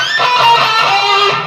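A distorted electric guitar pinch harmonic from a solo, a bright sustained squealing note with dense upper overtones ringing loud and alone for about a second and a half before fading.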